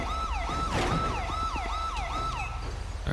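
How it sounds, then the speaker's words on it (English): A police siren from the game GTA 5 (LSPDFR patrol in a Tahoe) wails in steady rising and falling sweeps, loud and close, over a low engine rumble with no talk. "let me turn off the siren too"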